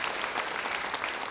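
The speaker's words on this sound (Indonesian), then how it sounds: "Beri tepuk tangan yang baik buat Tuhan" A church congregation claps together in a brief, dense wash of applause, steady and fairly close throughout.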